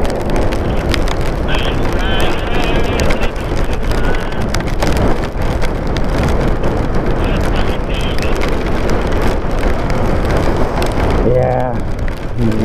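Steady, dense rain pours down during a heavy storm in town, a continuous wash of noise roughened by wind buffeting the microphone for the whole stretch, with a brief higher sound near the end.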